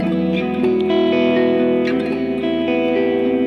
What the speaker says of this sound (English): here's like a kind of long reverb I have